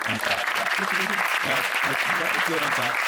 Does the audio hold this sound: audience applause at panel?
yes